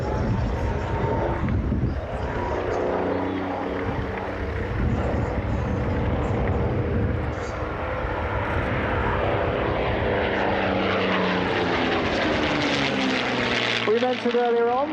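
A Spitfire flies past at an air display, its propeller engine droning loudly and continuously as it sweeps by, with the pitch shifting as it passes and a commentator talking over it.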